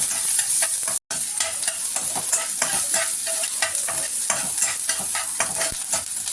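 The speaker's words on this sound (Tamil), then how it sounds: "இப்போ ஆனியன் போட்டுக்கலாம். ஆனியன் வதங்கட்டும்." Chopped onions sauté in hot oil with mustard seeds and urad dal, a constant close crackling sizzle broken by rhythmic spoon scrapes and stirring strokes, with a brief dropout near the start.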